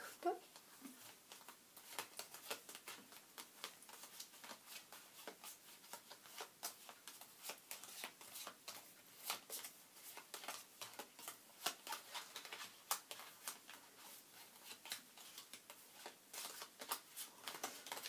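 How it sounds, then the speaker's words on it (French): A deck of tarot cards is shuffled by hand, giving a soft, continuous riffle of papery flicks and patters, quiet and close, while a voice speaks faintly at times. "Je mélange les cartes."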